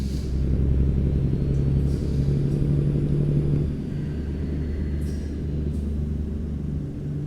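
Truck engine in American Truck Simulator while hauling cattle to a farm: a loud, steady low rumble with a continuous drone, easing slightly partway through, then droning on alone.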